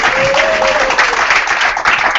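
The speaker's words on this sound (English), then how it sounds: "So when you clap, you do it like you mean it" Audience applause at a gathering, a dense burst of clapping that lasts the whole short stretch, loud and close, with brief vocal sounds under it.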